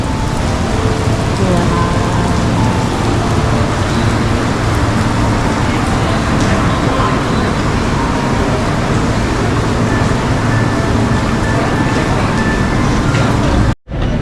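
Heavy rain pours down in Singapore as a steady, loud, unbroken hiss that runs for about fourteen seconds before cutting off abruptly.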